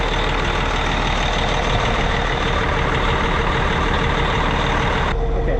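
Cat 657E scraper with its C18 engine running on a test run after an oil-starvation rebuild, a loud, steady, close diesel roar that holds constant throughout with no pauses.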